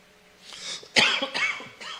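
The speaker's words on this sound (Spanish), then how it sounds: "No la estoy haciendo de tos, así estoy" A single harsh cough near the mic, followed by a couple of shorter throaty coughs or throat clearings.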